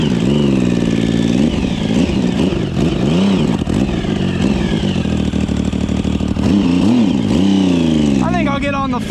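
A Yamaha Raptor quad with a 1050cc engine swap revs hard and loud nearby, its deep rough note repeatedly climbing and dropping as the throttle is worked on the move.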